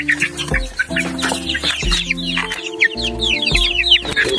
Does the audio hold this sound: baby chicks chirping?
yes